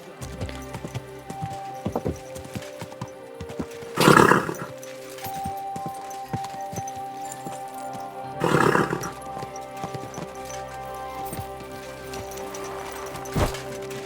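Horse hooves clip-clopping in the medieval video game Kingdom Come Deliverance 2, with steady hoofbeats, a couple of loud snorts or whinnies, and faint rain in the background.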